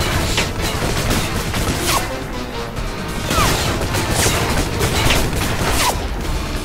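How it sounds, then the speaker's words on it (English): Stinger missile launched at a tank in the video game Alpha Protocol, amid a loud, dense barrage of explosions, crashes and gunfire that continues without a break. "Stinger missile"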